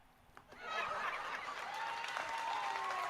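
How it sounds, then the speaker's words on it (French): Audience at a televised wrestling show applauding, a steady wash of clapping and crowd noise that swells after a quiet start and holds at moderate level, heard from a distance. "Le public applaudit."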